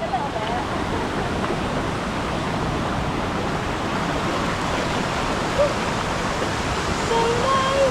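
Steady, dense roar of a waterfall on Sumba Island in West Indonesia, a constant broadband rush of falling water that stays loud and unbroken throughout.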